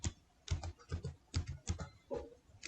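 A computer keyboard clicks out a short burst of typing: a dozen or so quiet, close keystrokes in an uneven rhythm, with no voices.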